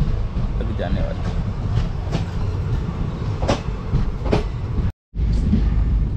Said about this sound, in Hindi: और ये ट्रेन क्रॉस कर रही है मैंगलोर सेंट्रल लोकमान्य तिलक, मैंगलोर सेंट्रल से मुंबई तक जाने वाली।